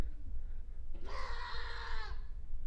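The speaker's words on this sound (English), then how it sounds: "They have some goats over there." Goats bleat across a remote outback landscape near a salt lake: one wavering bleat of about a second, moderately near, over a low wind-like rumble.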